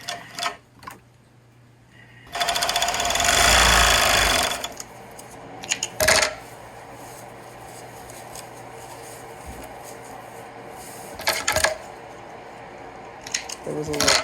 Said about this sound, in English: Sewing around it.